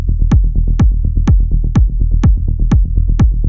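Melodic techno bassline built in FL Studio, a steady 16th-note low synth bass rolling under a punchy four-on-the-floor kick, dense and loud with no voices.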